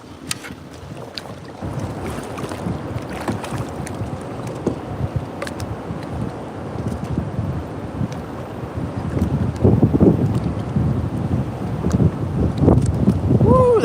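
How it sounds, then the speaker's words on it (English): Gusty wind buffets a fishing boat on open water, roaring across the mic with knocks and thumps of the hull and gear, building louder toward the end while someone talks now and then. "that wind's coming in good now"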